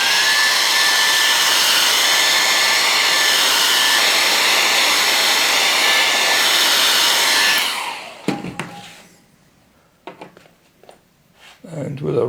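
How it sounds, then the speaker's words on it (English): A hair dryer blows loudly and steadily for several seconds, then shuts off, leaving quiet clicks and faint handling noises. "I could use a hairdryer again."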